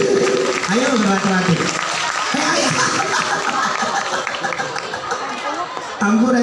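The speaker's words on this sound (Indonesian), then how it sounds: "tepuk tangan untuk guru matematik" An audience at a religious lecture claps in sustained applause for a mathematics teacher, a dense wash of clapping mixed with crowd chatter, under a speaker's voice.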